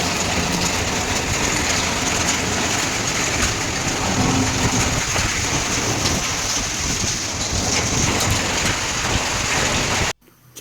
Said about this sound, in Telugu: గత కొన్ని రోజులుగా భారీ వర్షాలు కురుస్తున్నాయి